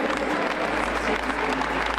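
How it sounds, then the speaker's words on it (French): Dense, sustained applause from a large football stadium crowd in Lyon fills the space, steady and loud throughout with a low rumble underneath. "Sous les applaudissements de tout un stade, de toute une ville"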